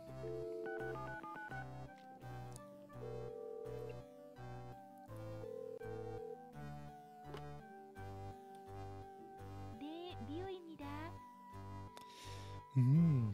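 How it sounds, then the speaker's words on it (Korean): Phone dialing tones play in the Tokimeki Memorial dating sim, a run of short evenly spaced beeps over chiptune game music, with a brief voice near the end. "우리 누구한테 전화할까? 미오에게."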